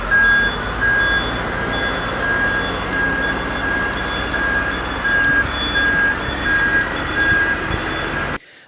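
Heavy machinery such as bulldozers and trucks working at a seaside redevelopment site, with a steady broadband rumble and a repeating high reversing beep throughout, loud and continuous until it cuts off near the end.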